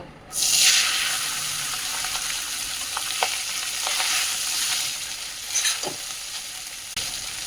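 Steady hiss of spices frying in hot oil, loud and close, with a few soft clinks of a spoon stirring in the pan.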